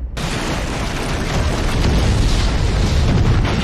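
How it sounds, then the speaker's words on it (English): A loud, sustained explosion from the James Bond film Skyfall, where a helicopter blows up: a dense, rumbling blast that swells and keeps roaring for several seconds. "that was the explosion, the intended explosion"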